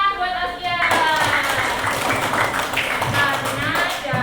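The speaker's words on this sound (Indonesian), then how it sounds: "Iya, tepuk tangan buat Askia." A classroom of schoolchildren claps for a pupil: a dense, lively burst of many small hands that carries on steadily for a few seconds, with a teacher's voice over it.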